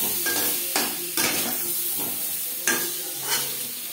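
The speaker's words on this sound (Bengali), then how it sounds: "আলু আমি হালকা করে ভেজে নেব" Boiled potatoes frying in a pan with salt and turmeric, a loud close sizzle with repeated scraping stirs and the occasional metallic knock of the spoon.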